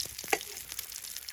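Fish frying in oil over an outdoor forest fire, a soft continuous sizzle broken by a few sharp spatters and pops, fairly quiet with no talking.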